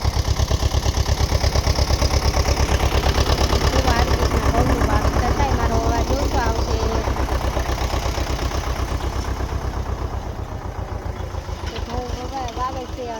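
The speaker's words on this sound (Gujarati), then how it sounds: "કેવી રીતના ઘઉં વાવે ટ્રેક્ટર આપણે જોઈએ જો આવી રીતના ઘઉંનું વાવેતર થાય વાડીમાં" A tractor engine sows wheat in a farm field, running with a loud, steady low chug throughout. It eases slightly toward the end while people talk over it.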